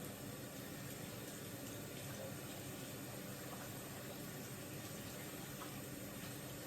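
Tap water running steadily over a freshly sharpened knife being rinsed after waterstone sharpening, a constant broadband rushing wash that stays at an even level throughout, close and unbroken, without voices.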